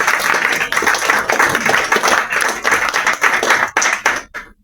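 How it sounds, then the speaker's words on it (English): Audience at a {dev.talk} developer meetup in November 2024 gives a dense, loud round of applause that carries steadily for over four seconds before tapering off abruptly at the end. "a big round of applause for all of us"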